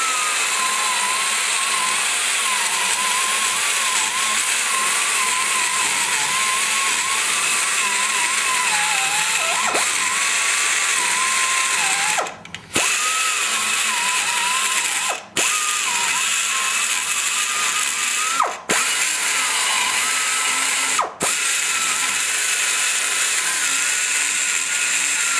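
A power tool grinds steadily and loudly while porting a cylinder head for an Imhoff 186 "Humps" engine, its whine holding constant with four brief dips where the bit lifts off the metal.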